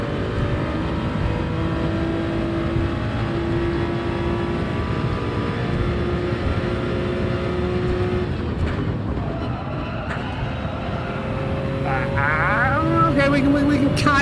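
A hypercar engine in Gran Turismo 7 daily races, a sustained low, gritty engine drone that holds steady, then dips and climbs again with rising revs near the end, with a voice talking over it.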